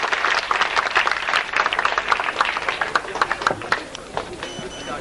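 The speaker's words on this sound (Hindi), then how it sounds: "तालियों के साथ जोरदार स्वागत" Enthusiastic applause from a mushaira audience welcoming a guest to the stage, with dense clapping that thins into scattered claps toward the end, while voices murmur beneath it.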